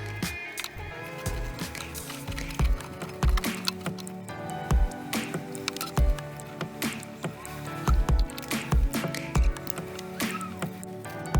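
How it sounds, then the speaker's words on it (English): A roller lays thick two-component polyurethane gloss paint onto a fiberglass motor boat hull, giving wet squishing and sticky tacky clicks in an irregular rhythm, close and fairly loud with no talk. "I started applying with a roller, but then I decided to continue the work just using a brush."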